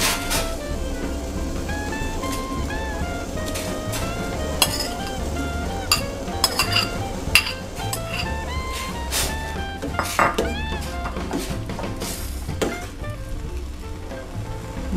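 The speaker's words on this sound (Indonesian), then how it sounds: "Setelah mendidih, kemudian masukkan mangga muda yang sudah ditiriskan." Young mango pieces simmer in boiling sugar syrup in a pot, a steady sizzle and bubbling with frequent metallic clinks and scrapes of a utensil stirring against the pot, loud and close throughout.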